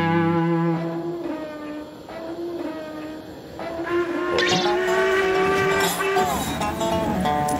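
A passenger train pulls in with a long, steady whistle or horn tone held over a rumbling, clattering run of wheels. The clatter grows louder and fuller as the train nears.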